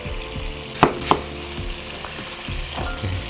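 Cubed white onion tipped into a hot pot for beef stew, hitting the oil with two sharp bursts followed by a crackling sizzle and a few clinks and scrapes, close and without talk.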